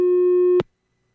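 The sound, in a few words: telephone busy signal on a radio call-in line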